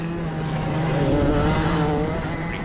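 A go-kart engine due for a rebuild races along a track, a loud close onboard drone holding a steady pitch with a slight rise midway.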